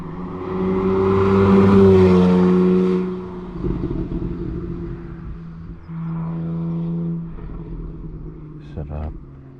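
Car passing on Mulholland Drive, a loud engine swelling then fading away, followed by a second quieter vehicle hum, with a voice talking over part of it.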